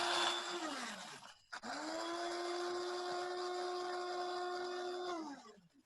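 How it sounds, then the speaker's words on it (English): Electric spice grinder whirring through whole spices: a steady, high-pitched motor whine that sounds twice, broken by a short pause and a clatter, then runs several seconds before winding down. "So I'm just going to put this in my spice grinder."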